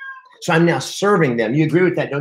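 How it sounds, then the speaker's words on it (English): A pet cat named Elvis meows to be let outside while someone talks over it, the cat's cries rising and falling close by beneath and between his speech. "That's my cat down there. He wants to go outside."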